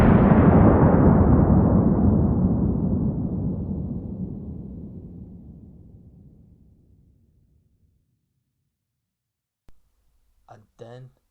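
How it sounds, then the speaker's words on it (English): A huge explosion of an old fort's gunpowder magazine, a loud booming blast that rumbles and slowly fades over several seconds, followed by silence and then a few brief, faint later sounds. "the fort exploded from its old gunpowder magazine"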